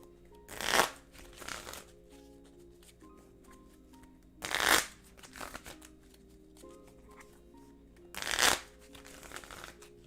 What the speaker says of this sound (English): now I gotta shuffle up again